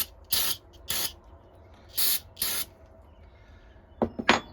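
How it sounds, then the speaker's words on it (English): Cleaner is sprayed onto a freshly ground EDC knife blade in four crisp, close hissing bursts, followed by a couple of quicker, shorter spritzes near the end, with quiet pauses in between. "What I'm going to do is I'm going to use some cleaner to clean this stuff to"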